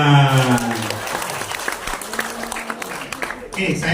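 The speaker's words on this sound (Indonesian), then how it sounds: "Tepuk tangan." Audience members clap together at an Indonesian community gathering, a dense burst of hand claps that swells and then thins out, with a voice speaking at the start and again at the end.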